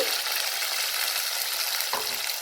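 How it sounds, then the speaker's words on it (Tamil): Onions, tomatoes and green chillies fry in a pan of hot oil for fish curry, giving a loud, dense, steady sizzle close by with a brief scrape of stirring near the end. "வெங்காயம் தக்காளி எல்லாம் நல்லா வதங்கட்டும்"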